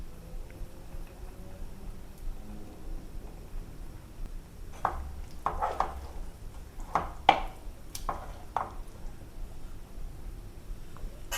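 Guntur mushroom curry stirred in a pan with coriander leaves after the stove is off, making a cluster of soft clicks and taps of the spoon against the pan, quiet and close, with no speech.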